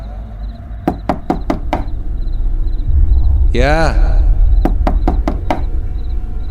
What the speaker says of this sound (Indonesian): tiba-tiba ada yang mengetuk pintu kamar